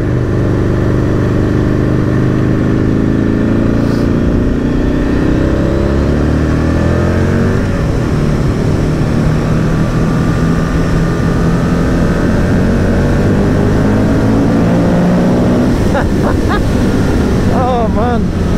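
A 2002 Aprilia RSV Mille R superbike on the Isle of Man, its engine note climbing and falling through gears under heavy wind rush, loud and close, with brief rising whines near the end.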